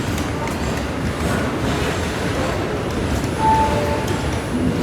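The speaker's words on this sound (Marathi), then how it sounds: "इथे काय ऑइलचा टँकर आहे, ही ट्रेन घेऊन चाललेली आहे." A freight train hauling black oil tanker wagons rumbles past with a continuous low rolling roar and faint wheel squeals, heard nearby from a waiting passenger train.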